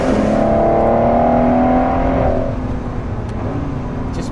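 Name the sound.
Ford GT sports car driving on Atlantic Ocean Road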